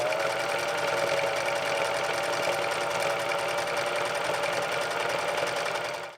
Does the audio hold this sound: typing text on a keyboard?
no